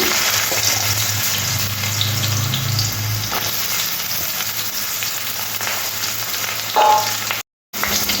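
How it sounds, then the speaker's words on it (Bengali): Cut potatoes fry in hot oil in a wok with dried red chillies and nigella seed tempering, a loud, constant sizzle with occasional stirring scrapes and no talk, ending with a brief cut. "আলুটা গোল্ডেন কালার আসা অবধি ভাজতে হবে"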